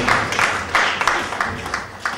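Applause from a church congregation, a steady wash of many hands clapping with a few sharper claps standing out, fairly close and continuous.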